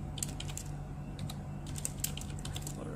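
Soft, steady typing on a computer keyboard, irregular keystrokes tapping away at close range over a constant low hum, with nobody talking.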